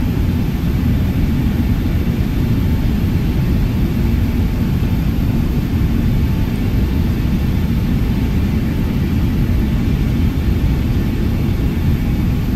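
Boeing 777 engines taxiing at Dallas-Fort Worth, heard as a steady, loud, unbroken rumble with a constant hiss and a faint whine running through it, no pauses.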